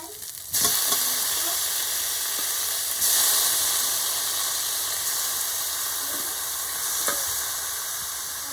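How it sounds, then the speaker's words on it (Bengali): Minced chicken fries with ginger and garlic in butter in a pan, giving a loud, continuous close sizzle with occasional stirring sounds throughout. "আদা আর রসুনটাকে দিয়ে আমি খুব ভালোভাবে একটু নেড়ে নেব তারপরে আমি এর মধ্যে দিয়ে দেবো কিমা করা চিকেনগুলোকে"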